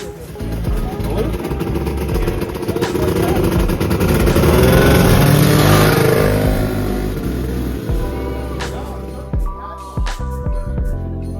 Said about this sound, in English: If you're wondering what I'm riding today, this 1979 Blizzard Cross Country.